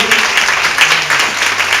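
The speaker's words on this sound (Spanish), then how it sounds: "Fuerte el aplauso para Él." A church congregation applauds loudly and steadily for a short stretch, a dense wash of close hand claps with no voices standing out.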